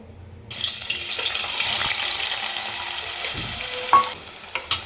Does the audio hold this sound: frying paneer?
yes